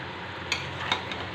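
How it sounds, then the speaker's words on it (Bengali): Mutton with yogurt sautéing in a pot, a steady close sizzle with a couple of brief scraping stirs of a spoon. "এই যে মটন কষানো হচ্ছে"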